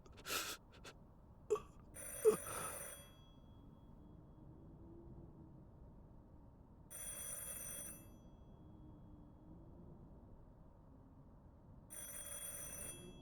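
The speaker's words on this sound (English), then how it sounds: "A phone rings elsewhere." A telephone rings in a video game, three separate bursts of shrill bell trills spaced several seconds apart, following a few sharp thuds and knocks at the start, over a quiet low ambient hum with no talk.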